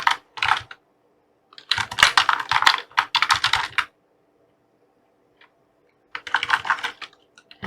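Typing on a computer keyboard, close and crisp, in short uneven bursts of quick key clicks separated by silent pauses.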